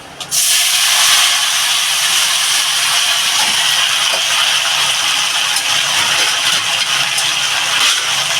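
Washed papaya and potato pieces tipped into hot oil with burnt cumin seeds, bursting into a loud, steady, hissing sizzle that holds close and unbroken throughout.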